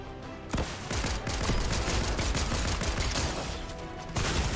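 Rapid gunfire in the video game Fortnite, dense overlapping volleys of shots crackling almost continuously and loudly from about half a second in, with no voices.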